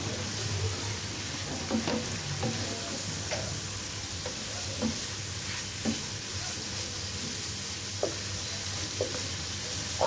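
Leftover chicken cooks in a pan, a continuous moderate sizzle broken by occasional clicks and scrapes of a spatula stirring it, with no one talking.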